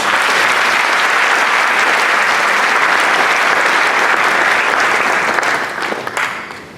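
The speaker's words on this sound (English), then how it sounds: "we need to give them an applause for them" A large crowd at NABCO's one-year anniversary event applauds steadily and loudly, the clapping continuing without a break before tapering off near the end.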